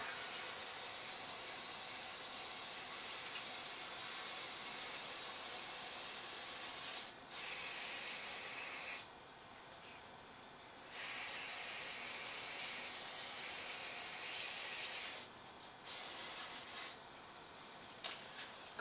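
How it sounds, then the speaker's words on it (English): Carburetor cleaner sprayed onto a part during an alternator rebuild gives a steady broad hiss through most of the clip, broken by several short pauses and bursts toward the end, heard up close with no talking. "give that a quick squirt with the carburetor cleaner, wash the rest of it out"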